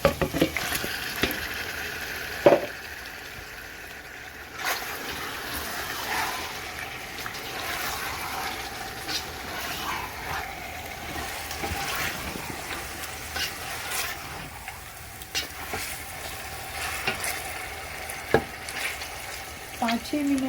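Chicken and okra are sautéed together in a pan, with a moderate sizzle broken by stirring scrapes and clatters over about twenty seconds, close by and without talking.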